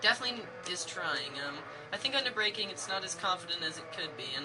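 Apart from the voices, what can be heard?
None of the usual background noises is heard.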